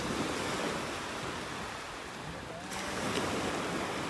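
Ocean waves washing onto a beach in North Naples, Florida, a steady broad roar of surf close by, mixed with wind buffeting the microphone, without talk.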